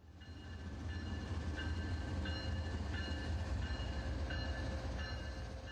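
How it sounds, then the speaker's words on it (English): A special rail-safety train rolls along the rails with a loud, steady low rumble, its wheels clicking at regular intervals over the track joints; no one speaks. "This is no ordinary train."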